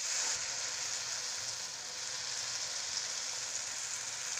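Rose cookies (Kurkurit Roz) of maida batter frying in hot oil, a soft, steady hissing sizzle that stays faint and even throughout, with no talk.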